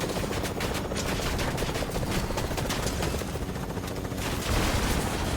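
Rapid automatic gunfire in Fortnite, dense bursts of shots crackling continuously and loudly with game noise beneath, no voices over it.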